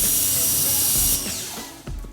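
Water sprays onto a panel of a Mercedes GLE SUV during detailing, a steady close hiss that cuts off partway through, followed by splashing drips and a short renewed burst of spray.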